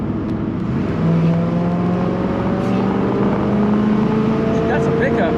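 Car engine pulling in fourth gear with a little dirt in the carburetor, a steady droning tone climbing gradually in pitch as it accelerates, with a voice talking over it.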